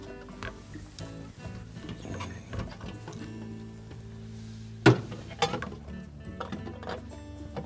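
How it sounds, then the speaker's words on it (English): A screw being reinstalled into the back cabinet panel of a GE refrigerator, with soft mechanical clicks and ratcheting of a driver, followed by a sharper knock and a few light metallic taps near the end. "Then reinstall the screw."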